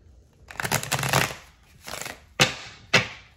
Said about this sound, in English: Okay, I don't know what's going on there with that shuffle.